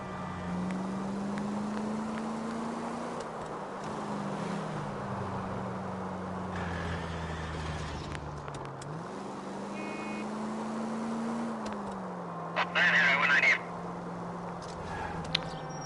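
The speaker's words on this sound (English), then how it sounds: "That's the car, Cole. Just pulling out of the drive." A car in the video game L.A. Noire pulls out of a driveway, its low engine drone rising and falling steadily, fairly faint beneath quiet ambient background with a brief clatter near the end.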